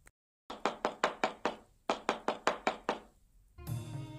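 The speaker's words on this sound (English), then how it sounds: "knocked on the door of the ground floor room" Knocking on the wooden door of a ground-floor room in a narrow court: two close series of sharp, firm raps, about six then five evenly spaced, after a moment of silence, with no voices.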